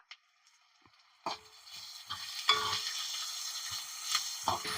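Half a spoon of turmeric is fried in hot oil for a potato kurma. A quiet start gives way to a sharp sizzle after about a second, which swells into steady, close frying with stirring scrapes. No one speaks.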